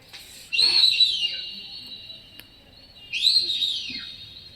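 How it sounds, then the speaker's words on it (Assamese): Two loud, drawn-out honking calls from a ruddy shelduck, separated by a short pause, standing clear over a quiet background. "চক্ৰবাক চৰাই মহাৰাজ"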